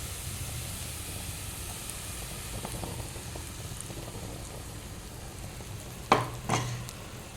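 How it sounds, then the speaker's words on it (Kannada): Beaten egg for an omelette fries in a pan, giving a steady close sizzle and crackle. Near the end come a couple of sharper clanks and stirring sounds. "ಹಾಕ್ಕೊಂಡು ಸ್ವಲ್ಪ ಫ್ರೈ ಆಗಲಿ."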